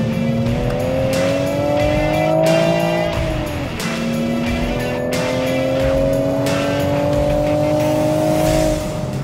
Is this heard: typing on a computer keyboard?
no